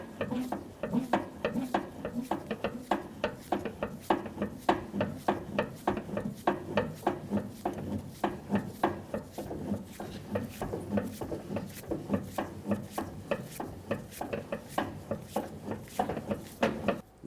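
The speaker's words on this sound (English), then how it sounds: "now we're going to turn this counterclockwise and start lowering our spare tire" The crank turns steadily to lower the spare tire on a 2001-2005 Ford Explorer Sport Trac, giving a fast, even train of metallic clicks and ratchet knocks that runs nonstop for about seventeen seconds, close and moderately loud.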